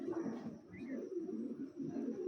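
A green-necked pigeon coos in soft, low, rolling pulses, fairly faint and close by, in a pigeon-keeper's collection.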